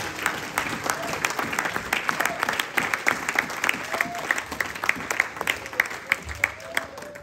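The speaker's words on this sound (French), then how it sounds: "Au nom de Jésus, acclame ta victoire, acclame ta victoire" A church congregation at an evangelistic service claps and cheers in acclaim, dense sustained applause with sharp claps and crowd voices, loud and steady for several seconds.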